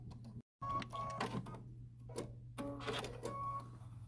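A sewing machine stitches the corners of a placemat in short bursts of quiet mechanical whirring and clicking, separated by brief pauses, close and faint.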